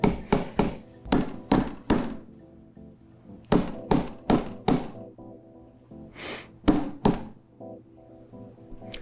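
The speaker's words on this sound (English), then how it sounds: "So I'm gonna hammer the whole thing flat." A chasing hammer flattens and textures a small metal teardrop charm for a necklace, landing quick bursts of ringing metallic taps, often in twos or threes, close up with short pauses between them.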